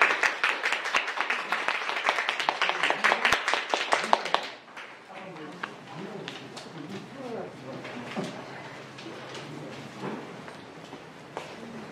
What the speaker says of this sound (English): let's give Atonu one more big round of applause